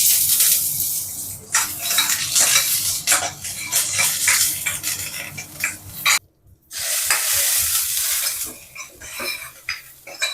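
Onion and curry leaves fry with vadagam in a pan for sambar, a loud close sizzle with repeated spatula stirs and scrapes, briefly cut off mid-way before the crackling resumes.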